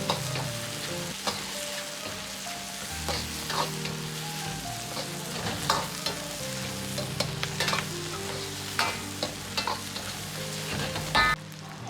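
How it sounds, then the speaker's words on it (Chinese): Chicken stir-frying with dried chilies, Sichuan peppercorns, scallion and ginger, giving a continuous loud sizzle broken by frequent scraping and tapping of a spatula against the wok. "接着下入葱姜，煸炒出香味"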